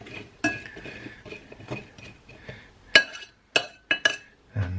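A spoon clinks and scrapes against a bowl while rhubarb is stirred together with cinnamon, giving a series of sharp metallic taps and rattles, some of them clustered, with soft rustling stirring between them.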